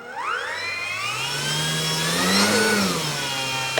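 Small electric motor on an E-flite 4-Site foam RC plane throttling up, a close, whining tone that rises in pitch, holds, dips slightly and climbs again over a few seconds.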